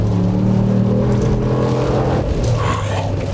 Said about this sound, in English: it has an exhaust system, but it is packing the Hemi V8